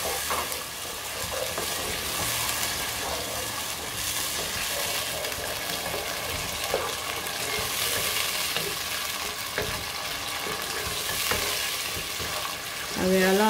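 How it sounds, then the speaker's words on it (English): Blended pepper fries steadily in a pan, a continuous close sizzle with stirring scrapes running throughout, while the gizdodo is being made. "Next, I'm going to be adding the blended pepper. And I'm going to fry it for 1 minute."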